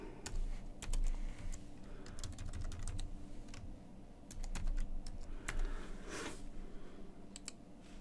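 Keys clatter on a computer keyboard as an administrator username and password are typed in, bursts of quiet clicking with short pauses over a steady low hum from nearby equipment.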